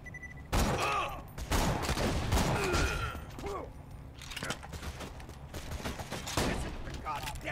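Gunfire in Borderlands 2 comes as dense, overlapping automatic shots, loudest near the start and then continuing more unevenly. Voices talk over the shooting.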